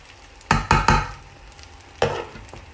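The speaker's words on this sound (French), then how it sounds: "je vais réutiliser mon huile pour sauter mes poivrons" Bell peppers are tossed into reused hot oil in a pan for a ratatouille, giving sharp sizzling bursts: three quick clattering hisses close together, then a pause, then another loud sizzle that fades into a soft frying hiss.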